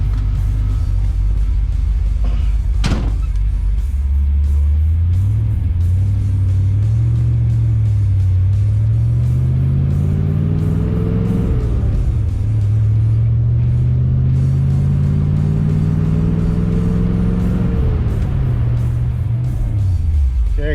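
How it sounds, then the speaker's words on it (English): The 5.0L V8 engine of a 1990 Ford Mustang GT with an RPM surge rumbles loudly while driving, revving up and down through gears in long rising and falling drones, with a sharp click near the start. "I'm gonna jump in it and take it for a spin"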